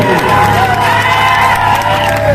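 A concert crowd at a Pathankot performance by a Himachali singer cheers and shouts loudly, with excited voices and a steady musical drone under the noisy, close roar.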